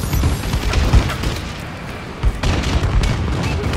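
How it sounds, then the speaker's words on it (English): A bombing run in Call of Duty: Advanced Warfare multiplayer produces a string of heavy booms and rumbling explosions. They are close and dense, with several sharper impacts standing out over a continuous low roar. "Friendly bombing run clearing the way."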